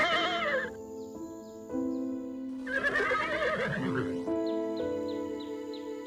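A horse gives one long, loud, quavering whinny close by, framed by other shorter animal calls.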